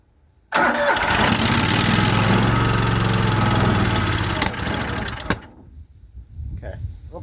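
A small gasoline engine on a farm-auction machine cranks and catches on a very cold day, running loud and rough for about five seconds before cutting out, followed by faint handling noises.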